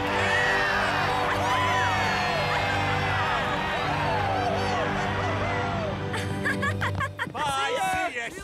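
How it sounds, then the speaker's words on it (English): Animated cartoon soccer fans of the SupaStrikas football team cheer loudly as a dense, continuous crowd roar with excited whoops and shouts, swelling and staying steady for several seconds before breaking into livelier yells near the end. "I think it's our turn to cheer"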